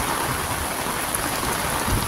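Steady rain pours over the sea on a windless habagat-season morning at Bulabog beach, Boracay, a dense continuous hiss with no voices.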